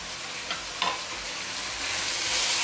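Minced keema being stirred in a pan with lemon juice, chopped coriander and green chillies: a brief, steady sizzle broken by a couple of quick spoon scrapes, with no talking.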